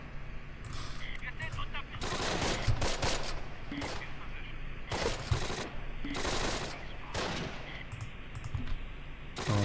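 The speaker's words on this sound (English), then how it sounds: "Oh, you can hear the German guns firing." Close Combat war game battle with German guns firing: repeated bursts of gunfire and machine-gun rattle in irregular volleys over a steady din of distant battle noise.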